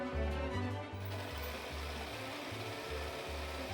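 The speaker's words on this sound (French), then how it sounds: "J'ai choisi d'assembler ma robe à la surjeteuse grâce aux 4 fils pour aller plus vite." A 4-thread overlocker serging the seams of a dress made from a t-shirt, a steady close mechanical whirring with a pulsing low rhythm, running continuously for nearly four seconds with no talk.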